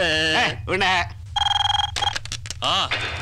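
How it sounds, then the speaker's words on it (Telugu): A phone rings in a bright electronic trill amid loud voices and music-like tones in a Telugu film comedy scene, the ring standing out clearly for about half a second. "సత్యం ఫోన్ మోగింది"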